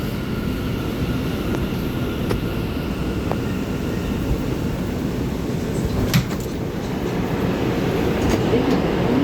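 An R179 subway train on the M line, a steady loud rumble of rail cars rolling through the tunnel with occasional faint clanks and squeals, continuous throughout.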